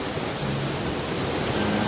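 A rain-swollen Himalayan mountain stream near Khankharkhet rushes after a night of heavy rain, giving a steady, loud, close broadband roar of churning water with no voices.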